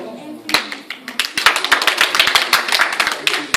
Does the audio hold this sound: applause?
yes